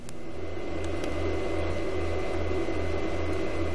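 Steady electrical hum from an off-grid power inverter setup fitted with EMI noise filters: a continuous low drone with a faint broadband hiss, constant in level and heard alone.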